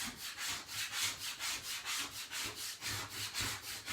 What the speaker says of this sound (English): And you can just start scraping it. And getting that chalk paste loosened up.